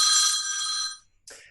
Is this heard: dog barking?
no